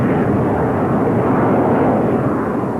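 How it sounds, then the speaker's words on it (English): Red Arrows jet aircraft in a fast dive and climb, heard as a loud, continuous broadband roar of jet engines that swells slightly in the middle and eases off, with no talk over it. "the Red Arrows are seen climbing out of a 400-mile-an-hour dive, leaving a giant arcing smoke trail behind them"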